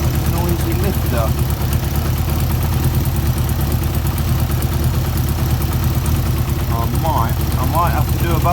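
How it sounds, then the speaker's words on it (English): A Yamaha XJ600 motorcycle engine idles steadily with a constant low rumble, overlaid by a fast, light ticking from a noisy lifter. "I think that might be a noisy lifter."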